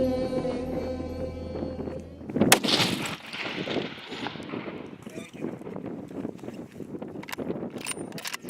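A single sharp rifle report cracks out during a long-range shot at 497 yards on a steep downhill, about a 60-degree angle, followed by a fading rumble and outdoor background noise.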